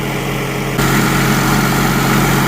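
A Terex RL4 light tower generator engine runs steadily close by, a constant droning hum that steps up in loudness after a moment as the load changes, with no talk over it.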